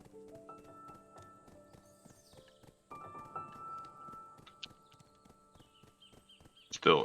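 Horse hooves clip-clop steadily as a mount in the online game Black Desert Online travels across a desert carrying heavy trade crates, with a brief whinny-like burst at the end.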